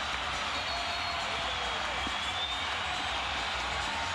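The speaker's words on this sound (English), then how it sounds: "This crowd very much into it." Capacity crowd of more than 19,000 at Staples Center in Los Angeles during a 2003 Knicks–Lakers NBA game, a steady, dense wash of arena crowd noise and cheering that holds loud and continuous throughout.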